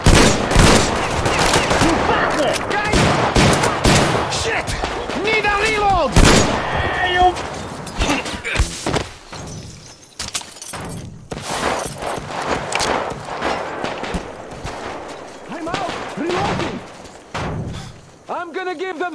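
Heavy bursts of gunfire from Metro Exodus, rapid shots and thumping impacts in loud waves that ease off midway and return in scattered volleys, with voices shouting amid the combat.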